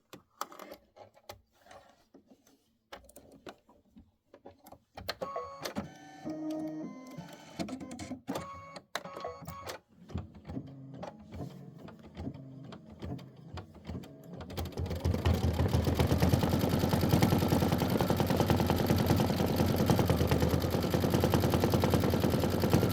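Embroidery machine stitching a satin outline of a bear for a winter quilt block: sparse ticks and short whirring bursts at first, then a steady, loud, continuous rapid stitching hum that fills the second half.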